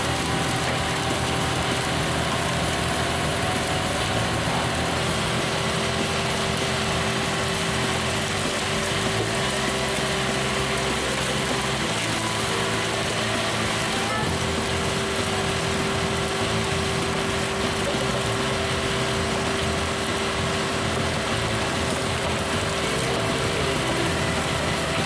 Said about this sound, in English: This one uses a powerful hydraulic ram to split logs, making short work of even the toughest wood.